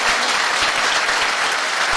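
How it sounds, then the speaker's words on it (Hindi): An audience bursts into dense, energetic applause at a motivational talk, with continuous close clapping from many hands filling the whole moment. "ताली जोरदार वाली बजाई"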